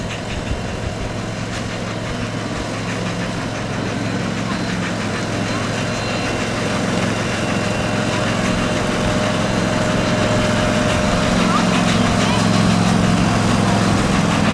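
Live steam locomotive at a Christmas train ride, with a steady mechanical rumble and chuffing churn continuing throughout, close and fairly loud, its low drone building slightly toward the end.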